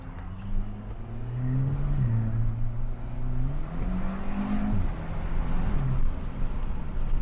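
An Audi S3 quattro with 300,000 km accelerates hard from inside the car, its engine note climbing in pitch through each gear, then dropping sharply at every shift, loud and continuous.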